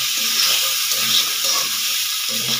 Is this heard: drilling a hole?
no